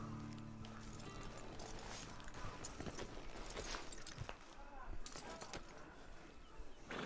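Horse hooves clip-clop in Red Dead Redemption 2, rhythmic clopping steps at moderate distance over ambient outdoor sound, with voices talking quietly in the background.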